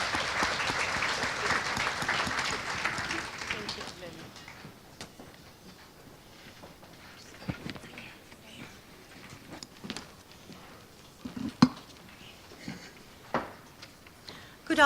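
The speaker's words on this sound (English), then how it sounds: "let's give her a round of applause" Conference audience applause at a labour law event, a burst of clapping for a few seconds that quickly dies away, leaving sparse scattered claps and room noise.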